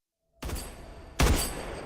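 Two sharp gunshots from a Hindi film scene, loud and close, separated by under a second, each a broadband blast with a lingering tail and no talk over them.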